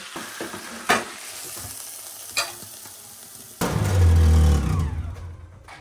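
Kohlrabi and potato chorchori is stirred in a pan, with a few sharp scrapes followed by a loud burst of frying sizzle that slowly fades.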